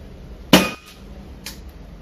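A single sharp metallic crack of a pellet striking a tin can, followed by a fainter tap a moment later.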